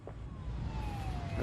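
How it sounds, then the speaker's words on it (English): Police car siren in the video game InFamous Second Son, a steady wailing tone gliding slowly downward over continuous low engine and traffic rumble, moderately loud with no talk. "And why is his siren going?"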